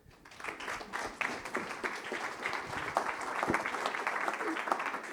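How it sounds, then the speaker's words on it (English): Audience at a stablecoin and central banking conference applauding a speaker: dense, sustained clapping from a sizable crowd building and holding for several seconds, fairly close and full. "Let's give him a round of applause."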